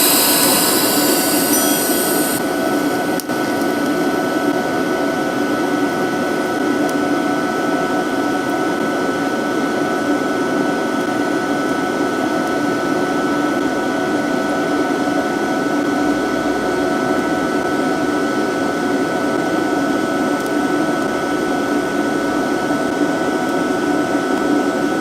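HITBOX HBT2000 TIG welder running seams on plate with filler rod, a steady close hiss and hum with a constant tonal whine, continuous and unbroken throughout with no talking.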